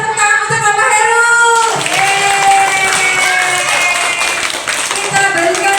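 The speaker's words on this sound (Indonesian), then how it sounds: "Coba tepuk tangan untuk Mama Heru." Young kindergarten children clap together in a hall for a guest, a steady patter of many small hands beneath sustained melodic music tones and some crowd noise.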